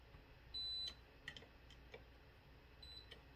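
Short electronic beeps from a continuity tester sound a few times while checking solder points on a QCX PA 50 watt amplifier build, brief high tones separated by quiet gaps and faint clicks, with no voices.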